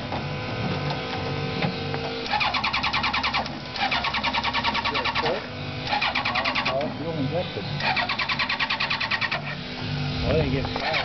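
An airboat fitted with a Yamaha 1300 cruiser motorcycle engine cranks and fires, its loud rattling, buzzy churn surging in repeated bursts over a steady engine drone, with voices mixed in.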